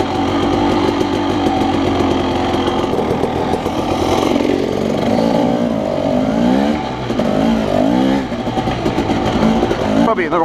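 A Husqvarna dirt bike engine on a trail at Mt Sugarloaf, NSW, Australia, revving loudly and steadily throughout with rising and falling pitch sweeps, close to the rider, with a voice talking over it at times.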